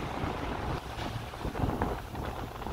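A sailboat rides waves in a sudden storm on the Red Sea, with steady loud wind rushing over the microphone and sloshing water churning beneath, continuous and close, with no talk.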